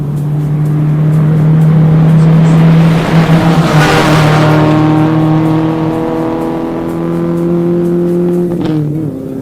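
A Subaru Forester rally car at the Prescott Rally, its engine loud and near, droning and revving steadily with rising and falling pitch as it works through the stage.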